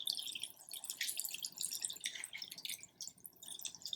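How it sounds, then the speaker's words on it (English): Spring water poured over crystals in a container, a close, light splashing and dripping trickle with fluctuating intensity, heard alone without talk. "And then what I do is I pour spring water directly on it."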